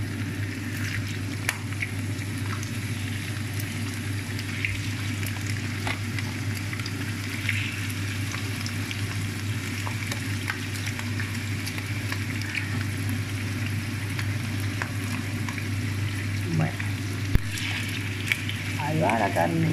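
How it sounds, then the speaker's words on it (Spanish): Pork ribs and meat frying in hot olive oil for a Spanish rice dish, a steady, even sizzle with occasional small crackles, continuous throughout at moderate level under a constant low hum. "pues vamos a empezar a freír ya la carne y los pimientos"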